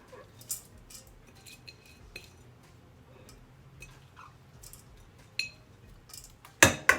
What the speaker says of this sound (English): So let's scrape all that rice out of the plate.